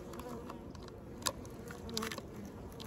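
Honeybees in a weak spring colony buzz close up, a busy and fairly quiet drone with scattered wingbeat flickers and a brief louder pass near the middle.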